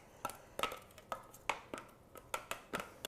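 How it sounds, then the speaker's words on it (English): Chopped vegetables are dumped from a Cuisinart Prep 9 nine-cup food processor bowl and scraped out with a spatula, making about eight crisp, evenly spaced knocks and scrapes, close and quiet, with no talking. "I'm going to dump the vegetables right into the bowl. And I'm going to just use my spatula to scrape out the excess"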